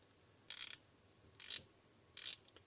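Three quick bursts of sharp ratcheting clicks from a small ratchet wrench, evenly spaced and close, each burst lasting a fraction of a second in an otherwise quiet setting.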